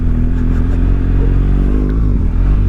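A motorcycle ridden along a country road during lockdown, with a close, loud, steady engine drone and rushing wind throughout and no talking.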